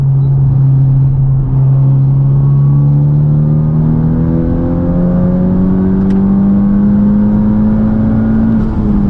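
A Honda Civic Type R with a turbo inlet pipe and race MAF accelerates hard in fourth gear, its engine droning loud and close with a smoothly rising pitch for about nine seconds.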